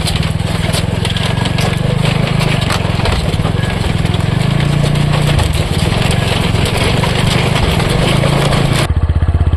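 A motorbike engine drones close by as the bike rides slowly along a slippery riverbank, with a steady, rough mid-pitched hum and some rattling before the sound cuts off near the end.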